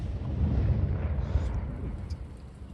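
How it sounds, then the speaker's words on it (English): A trial special-effects explosion fired on an outdoor site, heard as a sustained deep rumbling roar that fills the whole stretch and fades slightly at the end. "So we've got some trial big explosions going on and special effects"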